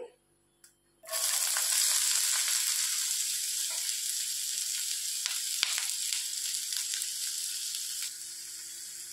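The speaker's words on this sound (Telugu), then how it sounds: "ఆయిల్ వేడెక్కిందండి. సన్నగా తరిగి పెట్టుకున్న ఉల్లిపాయలు వేసేసుకోవాలి." Thinly sliced onions hit hot oil with a sudden loud sizzle that holds steady as a dense, hissing fry, close and continuous, with a faint clink of utensils.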